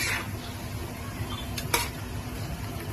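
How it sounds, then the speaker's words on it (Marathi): Pieces of mutton are stirred in masala in a pan, giving a soft continuous scraping and low sizzle with a couple of sharp utensil clinks against the metal. "आपण मटण ना मसाल्यामध्ये टाकलेले आहेत पीसेस, मस्त हलवून घ्यायचं, त्याला एकजीव करून टाकायचा"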